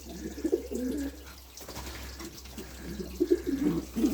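Young birds, pigeons or doves, in a backyard coop give soft low cooing calls in short bursts, close and moderately loud, with a faint steady hum and trickling water behind them.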